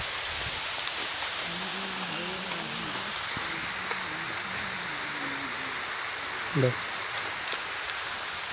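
Steady, even rainfall hisses throughout at Panampara, Ranni, in Kerala, with a voice speaking faintly underneath for a few seconds.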